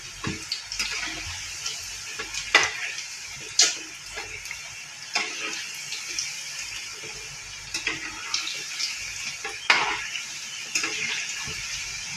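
Cauliflower pakoda frying in hot oil, bubbling and sizzling softly with scattered crackles and pops throughout, nearby and fairly quiet.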